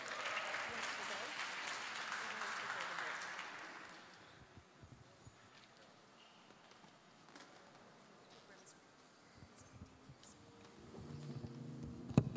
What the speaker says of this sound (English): Reverend Dr. Jeanette Wilson, give a big hand, please.